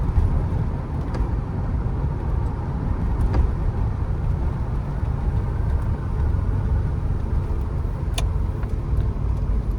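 A DeLorean with a 3-speed automatic gearbox drives along, its engine a steady, fairly loud drone that runs the whole way with no talking.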